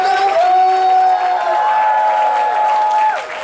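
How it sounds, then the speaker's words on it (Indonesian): A worship congregation claps hands loudly in a continuous wash of applause under held musical tones, which fade slightly toward the end. "Tepuk tangannya kencang, buat Tuhan Yesus"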